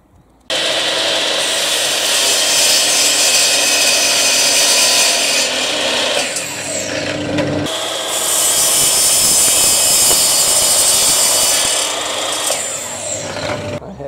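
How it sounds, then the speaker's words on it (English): A radial arm saw cuts rebates in hardwood boards for an outdoor privacy screen, a loud sustained close whine lasting several seconds, briefly dipping before a second long cut. "Cut the rebates on the radial arm saw here, and then I can glue and screw it all together."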